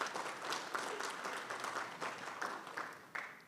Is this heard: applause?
yes